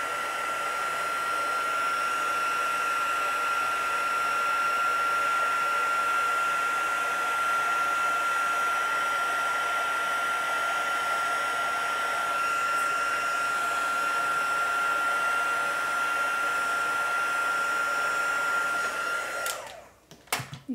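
A handheld heat tool blows hot air over a stamped card for heat embossing, a loud steady whirring roar with a constant whine that runs unbroken for about nineteen seconds, then cuts off with a brief clatter.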